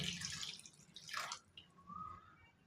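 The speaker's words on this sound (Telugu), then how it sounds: "వాటర్ పోసుకోవాలి" Water poured into a cashew nut and drumstick masala curry, a short splashing, trickling pour heard close and quiet with no talk.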